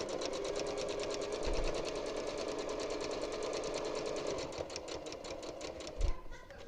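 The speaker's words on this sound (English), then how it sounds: "I am just going to keep sewing with my 1/4 inch seam." A sewing machine sews quilt binding on with a quarter-inch seam, whirring steadily and close at a fast even stitch rate, with a couple of soft thumps near the start and end.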